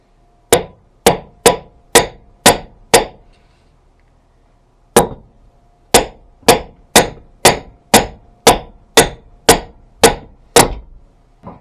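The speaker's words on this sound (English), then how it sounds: "I might have to use a sledgehammer to get it started." Sledgehammer pounding on a Craftsman tiller's tine assembly: a run of six sharp metallic blows, a pause, then about eleven more evenly spaced strikes, loud and close, with no voices.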